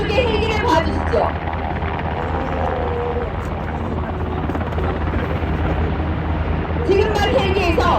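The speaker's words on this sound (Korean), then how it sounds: "여러분, 오른쪽에 헬기를 봐주시죠." Military helicopter flying overhead during a combat manoeuvre demonstration at the Gyeryong military culture expo in Korea, a loud, sustained rotor roar lasting the whole stretch while an announcer talks over a public address.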